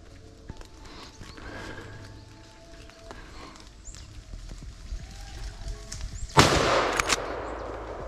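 A rifle shot rings out during a driven wild boar hunt, aimed at a small group of boar crossing a forest ride: one sharp, loud broadband crack near the end, trailing off after a stretch of quiet woodland ambience with faint rustling.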